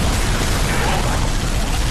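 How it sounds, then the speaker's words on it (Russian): Explosions in the video game Halo ODST, a dense, loud blast of booming, crackling noise that fills the whole short stretch without a break. "Это постоянно все взрывается, я не вижу, куда ехать."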